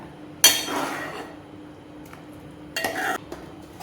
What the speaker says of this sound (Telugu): ఇదంతా బాగా మటన్లో బాగా కలుపుకోవాలి